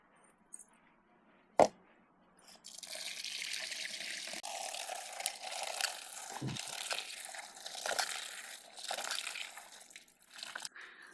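Freshly ground vegetables being rinsed and swished in water outdoors during village cooking, a steady splashing wash lasting several seconds after a sharp knock, fairly close and without talk.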